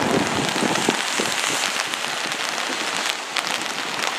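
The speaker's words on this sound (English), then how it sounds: "already we've got quite a bit of rain coming down" Steady rain falls on a street in Oslo, Norway, a dense continuous hiss of drops spattering on pavement, close and fairly loud throughout with no talking.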